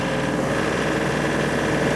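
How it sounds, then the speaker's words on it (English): A tractor engine with a box scraper attached, in four-wheel drive and low range, runs at a loud, steady, high throttle near about 2,600 RPM, with a continuous drone and no talking. "So I'm going to go ahead and throttle up."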